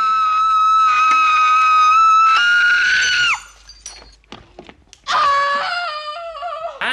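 A boy's piercing scream from the 1979 surreal film The Tin Drum: two long, shrill, sustained cries separated by a short gap of clattering noise, loud and close, with no talking.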